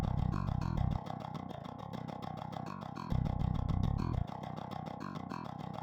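Bass guitar with grit distortion plays a rhythmic riff in a full mix, switching between filtered and unfiltered versions so that the low end drops out and returns in alternating sections.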